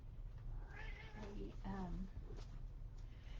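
A pet cat meows indoors, giving two or three distinct drawn-out meows close to the microphone over a low background hum.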